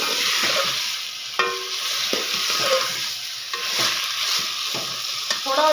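Chicken, potatoes, onion and garlic sizzle steadily in a pan while a spoon scrapes and stirs through them in repeated strokes with light clinks, up close and without talk.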